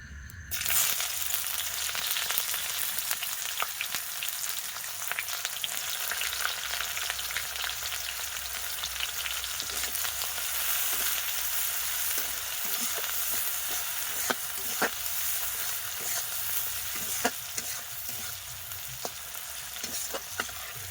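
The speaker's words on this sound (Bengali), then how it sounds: "পেঁয়াজ ফেলে দিব" Onion fries in a pan, giving a loud, steady sizzle that runs throughout, broken by scattered scraping stir clicks and no talking.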